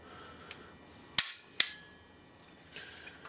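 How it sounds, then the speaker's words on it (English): A Saiga 7.62x39 sporter rifle's action works: a faint click, then two sharp metallic bangs about half a second apart from the bolt racking and cycling, and softer handling noises afterward. "Load a magazine in just like this. Rack the bolt, and boom, and this thing will cycle"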